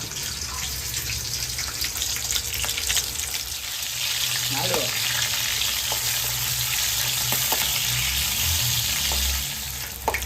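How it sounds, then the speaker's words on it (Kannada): Green chillies roast in a hot pan, crackling and sizzling steadily and close up, with occasional stirring clinks over the continuous frying hiss. "ಇದು ಸುಟ್ಕೊಂಡು ಇದು ಹುರ್ಕೊಂಡು ಚೆನ್ನಾಗಿ ಕೆಂಪಗಾಗಬೇಕು ಹಸಿಮೆಣಸಿನ್ಕಾಯಿ ಆ ಥರ ಹುರ್ಕೋಬೇಕು"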